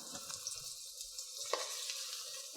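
Steady sizzling of onions frying in a pan, with a faint stir or scrape partway through; no talking.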